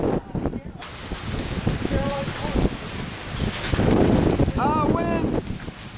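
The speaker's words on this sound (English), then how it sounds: "Wind!" Strong wind roars and buffets the microphone during a supercell hailstorm in Hinton, Oklahoma, loud and gusting, with excited shouting voices over it.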